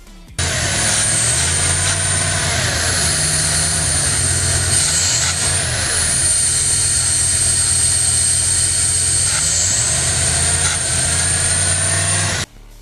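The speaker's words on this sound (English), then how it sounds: "while my friend slowly starts revving up my truck" A truck engine runs loud and close, its pitch rising and falling as it is revved several times over a steady mechanical whine, while carburetor cleaner is sprayed into the carburetor.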